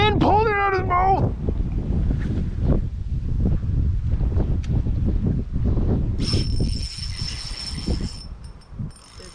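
Wind buffets the microphone with a steady low rumble on a boat during winter bass fishing, while people talk over it throughout.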